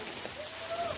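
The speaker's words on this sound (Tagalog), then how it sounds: "Madulas ang daan, maulan." Rain falls outdoors on a wet road in a rural Philippine setting, a steady, even hiss of drops throughout, fairly faint and with no clear voices.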